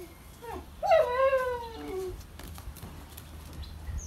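A Bangkaew dog, fluffy after a bath, lets out a single drawn-out whimper that rises and then slides downward, close and clear, followed by quieter room background.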